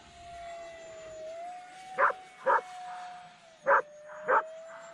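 A dog barks four times in quick sharp pairs, close and clear, over the steady high whine of a radio-controlled Arrows Viper model jet flying overhead.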